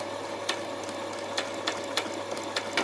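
A sewing machine stitches a long gathering seam around a skirt, a quiet continuous whir marked by a handful of evenly spaced clicks.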